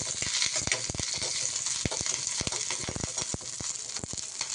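Curry leaves and other ingredients for a curry leaf laddu frying in a pan, a steady close sizzle with crackling bursts and occasional stirring scrapes throughout.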